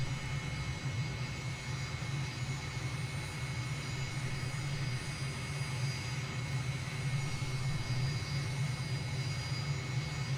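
Aircraft engine of a plane coming in to land in Microsoft Flight Simulator 2020, a steady, even droning hum with a constant low rumble throughout, no voices.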